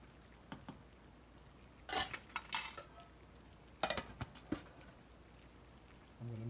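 Cumin and celery seed are stirred into a pastitsio mixture in a kitchen, a spoon scraping and clinking against the pot in scattered bursts, with a voice starting at the end.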